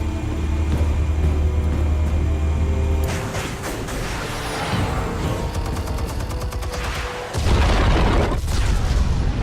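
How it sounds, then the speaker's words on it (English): Explosives detonate in Batman: The Telltale Series, with a heavy low boom giving way to a chaotic burst of crackling blasts and debris, then another deep rumbling surge near the end. "Explosives armed. Fire when ready."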